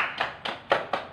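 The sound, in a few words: children clapping for a classmate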